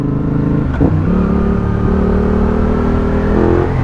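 A Yamaha XSR 700 motorcycle accelerates, its engine note climbing in pitch through the revs after a brief shift, loud and close with wind rush and no talking.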